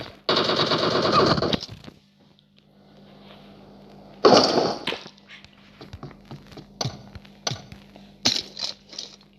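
A DP machine gun fires in a first-person shooter video game, with a loud sustained close-range burst, a second heavy burst after a pause, then scattered sharp single shots and cracks.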